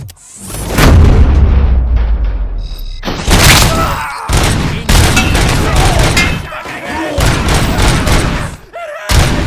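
The player's gun in Robocop: Rogue City fires heavy, booming shots close up, again and again in quick runs with brief gaps, while voices talk under the gunfire.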